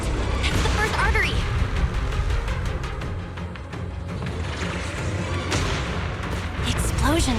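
Heavy, rumbling explosions from a cocoon in Zenless Zone Zero, coming in quick succession like artillery fire, loud and continuous with sharp bursts near the start and end.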